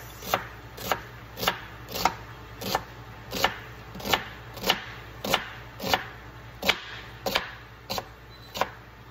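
A knife chops onion on a cutting board in a steady rhythm, roughly fourteen crisp, close knocks spaced evenly over a faint hum, no voices.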